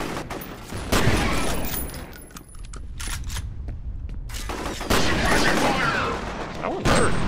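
A frag grenade explodes amid gunfire in the video game F.E.A.R.: loud rattling bursts of shots, a brief lull, then heavy blasts and more firing, with a voice speaking over parts.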